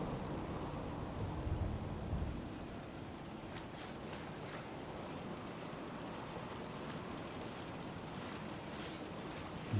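Steady heavy rain pours throughout a gothic-house settlement scene in a building game, with low rumbles of thunder rolling under the downpour and no voices.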